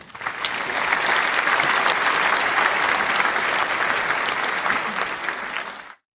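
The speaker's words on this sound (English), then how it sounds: "we want to make sure we give a round of applause to them" Sustained applause from a crowd honoring military service members, a dense, steady wash of many hands clapping that lasts about six seconds before cutting off abruptly.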